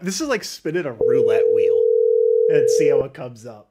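A phone call placed through Google Voice, a steady electronic tone lasting about two seconds that sits alone between stretches of someone talking.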